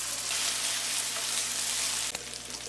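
Steady, loud sizzling of onions and ginger garlic paste frying in hot oil fills the clip, a constant crackling hiss with a faint clink near the end.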